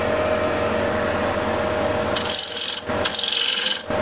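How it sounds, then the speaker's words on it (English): A 10mm spindle gouge cuts wood on a spinning lathe with a continuous close, rough scraping hiss over the motor's hum, then two brighter, louder bursts of cutting near the end. "10mm spindle gouge."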